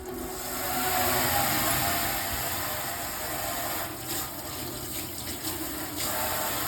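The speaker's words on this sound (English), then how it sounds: "And now I'm gonna rinse it with water." Tap water running over a freshly made waterproof sticker as it is rinsed, a steady hissing stream that swells early and then settles into an even, close splashing with small clicks near the end.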